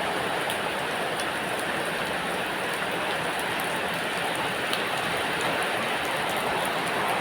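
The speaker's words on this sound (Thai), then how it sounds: "ฝนตกไม่หยุดสักทีเลย" Rain falls steadily at a rural garden home beside sugarcane and fields, a dense, even hiss of drops on surfaces that holds without pause.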